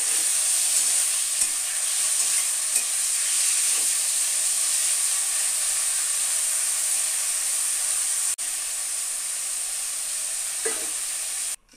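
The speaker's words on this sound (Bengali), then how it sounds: "এবার কড়াইতে একটু তেল দিয়ে মাছটা সামান্য আমি একটু এদিক ওদিক করেই নামিয়ে নেব।" Oil hisses steadily in a wok as prawns are briefly turned and stirred, a continuous close sizzle with a few faint scrapes, ending abruptly.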